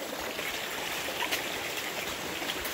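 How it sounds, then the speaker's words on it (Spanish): A river stream runs steadily over rocks, a continuous close rushing and trickling wash of water with no voices over it. "Andas en un río"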